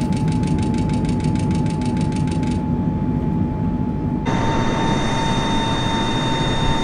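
Boeing 747 engines drone loud and steady in a flight simulator as the jet pulls through a loop, with a continuous roar, a sharp tonal hum and a shift in character partway through, no voices.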